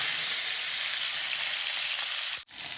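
Fish frying in hot oil makes a steady, loud, close sizzle and crackle that drops out for an instant near the end.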